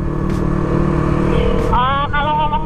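A motorcycle rides along a road with a loud constant engine drone and wind roar that fill the whole moment, with people talking over it while riding.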